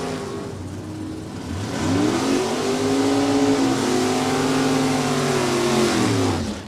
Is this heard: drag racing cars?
yes